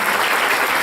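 A big church congregation claps continuously, a thick even wash of applause at full volume for the whole moment.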